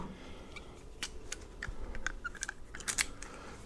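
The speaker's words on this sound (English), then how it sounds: "Get pliers on this clamp, put it back where it goes" Pliers clicking and scraping as a hose clamp is refitted on a heater hose of a 2012 Dodge Journey 3.6 V6, a series of sharp close metallic ticks and snaps scattered irregularly over a low background rumble.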